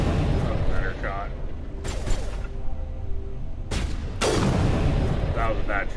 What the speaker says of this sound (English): That was a bad shot.